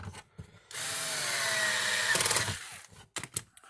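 Power driver spinning screws into the new plastic housing of a Gallagher MBX2500 fence charger, a steady whirring run of about two seconds ending in a few ratcheting clicks, close and alone.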